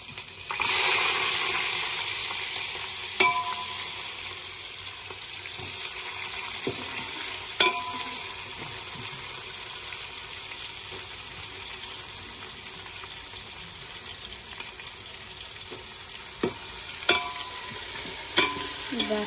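Onions fry in a pan with a steady, close sizzle, while a spoon scrapes and stirs in occasional sharp clinks and knocks throughout, without any talk.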